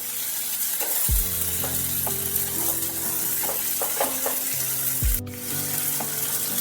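Sliced tomatoes frying with onions in a hot pan make a constant close sizzle. Occasional clanks of a spatula or spoon stir the mix, and a sharp scrape comes near the end.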